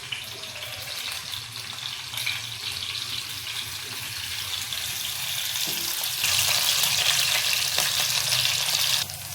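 Chilies fry in hot oil in a pan with a loud, steady sizzle that swells stronger toward the end, close and continuous with no voices.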